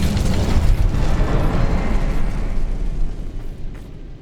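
Incendio fire spell cast in Hogwarts Legacy, a loud, dense roaring burst of flame with a deep rumbling body that holds steady for a few seconds, then thins and fades toward the end.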